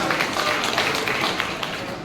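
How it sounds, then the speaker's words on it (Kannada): Steady applause from an audience at a Hassan district Kannada literary council gathering fills the short stretch as a dense, even patter of clapping without a break. "ಇವರಿಗೆ ಒಂದು ಜೋರಾದ ಚಪ್ಪಾಳೆ ಮತ್ತು ಧನ್ಯವಾದಗಳನ್ನು ಅರ್ಪಿಸೋಣ"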